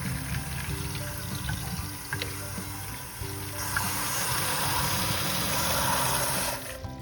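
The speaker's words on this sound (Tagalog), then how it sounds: "let's wash this with a cold or tap water" Cold tap water running steadily into a sink to wash mung beans, a continuous close splashing stream with faint clinks and handling noises.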